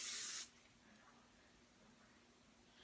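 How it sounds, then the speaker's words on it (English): A brief loud hiss of working hair spray bursts out at the start while styling a low bun updo on short hair, then cuts off, leaving faint room noise. "I'm going to go in with my working spray. And I'm really going to just spray that down."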